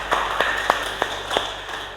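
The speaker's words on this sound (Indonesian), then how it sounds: "Beri tepuk tangan untuk Nurhayati." A handful of sparse, distinct claps ring out in an online teacher-training class session, about six separate hits with a roughly even rhythm, fairly faint.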